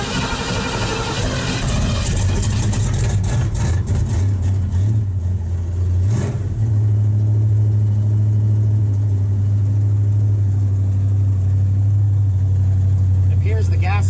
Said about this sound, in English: So this was officially going to be the first startup of the first drive for the Ranchero